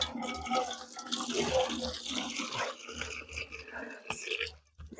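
Water gushes from a village hand pump in a loud, close, continuous rush with uneven surges, and a few brief voices are heard.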